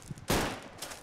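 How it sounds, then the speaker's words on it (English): A single handgun shot cracks faintly at a distance in the Roblox game Fallen Survival, one short burst standing alone. "I hear handgun shots, but I don't know where it comes from"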